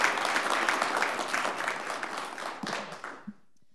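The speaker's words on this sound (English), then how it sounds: "Can we give them one more round of applause for their great work?" Audience applause at a school district board of trustees meeting, a dense steady wash of clapping that fades out near the end.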